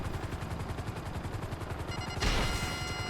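Rapid automatic gunfire in GTA 5 Online, a steady close burst of repeated shots that swells into a louder blast near the end, with no talking.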